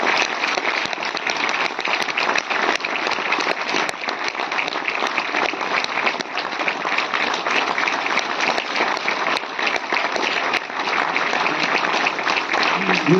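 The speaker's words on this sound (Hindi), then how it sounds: "उनके लिए जोरदार तालियां" Audience at a Delhi railway goods-shed workers' union event gives loud, sustained applause, a dense, steady wash of many hands clapping that runs unbroken throughout.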